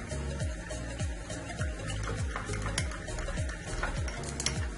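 Rice cooking in a pan for black rice with prawns and clams, with hot broth added, a soft steady sizzle and bubbling under repeated rhythmic scraping strokes of a spoon stirring, close and fairly quiet.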